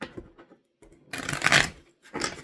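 Tarot cards are shuffled in short papery riffles and slides, a few brief bursts separated by pauses, close and fairly quiet with no talking.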